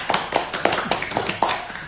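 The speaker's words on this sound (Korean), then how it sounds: "박수!" A few people clap briefly at the start of a Daegu FC football livestream, about six or seven distinct claps in a short, sparse burst.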